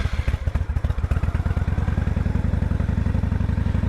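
A 1998 Honda Shadow 1100 with a stage 3 kit turns over on choke from a cold start, a loud, close, rapid lumpy thumping that settles into an uneven idle.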